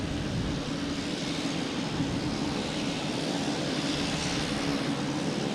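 An airplane comes in to land at Boston Logan Airport, its engine roar a steady, broadband rumble that holds loud and unbroken throughout with no voices over it.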